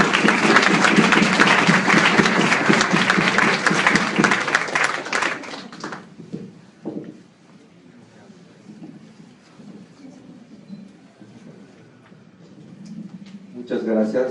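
An audience at a psychology lecture applauds the speaker with loud, dense clapping that stops abruptly after several seconds, leaving a quiet room with faint rustling before a voice begins to speak.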